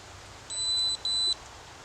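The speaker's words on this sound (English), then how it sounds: "So now it beeped twice" A Wolverine MTW airsoft device gives two short, high electronic beeps in quick succession while pairing, clear against a quiet background.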